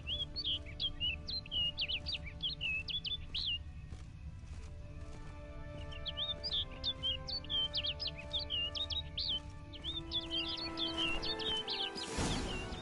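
Birds chirping repeatedly in quick, bright bursts in the Witcher 3: Blood and Wine game world, with a low ambient hum and tonal background beneath, ending in a short louder noise burst.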